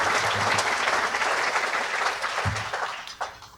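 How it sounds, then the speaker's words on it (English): An audience at a participants' meeting gives a round of applause for new neurology residents, steady and full, with a few louder individual claps near the end. "So let's give all of them a great round of applause."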